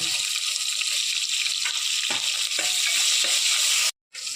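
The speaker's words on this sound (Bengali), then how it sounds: "কাটা পেঁয়াজটাই দেবো। দিয়ে আগে একটু ভেজে নেব" Chopped onions fry for a Bihari-style mutton curry in a pan, giving a dense, steady, close sizzle with a few soft stirring knocks before a brief cutout near the end.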